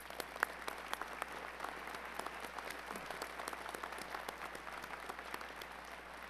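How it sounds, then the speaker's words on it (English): Graduates at a technical college fall commencement receive steady applause from a large crowd, dense overlapping clapping with a few sharper claps standing out, heard at a distance and fairly quiet. "they deserve a round of applause"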